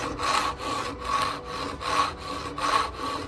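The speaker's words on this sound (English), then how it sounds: "So when I'm sawing" A hand saw cuts through wood in four even back-and-forth strokes, each rasping stroke loud and close with a steady rhythm.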